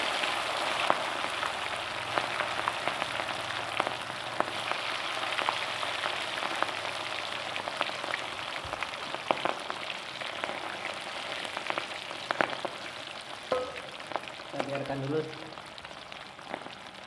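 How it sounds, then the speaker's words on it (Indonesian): Ingredients for soto padang frying in a pan, a steady close crackling sizzle like light rain with occasional sharper pops, continuous throughout. "Oke, kita mulai goreng sekarang"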